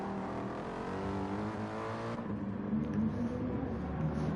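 GT race cars at the Red Bull Ring in a racing video game drone steadily with engine revs rising and shifting, a continuous motor roar without any talk.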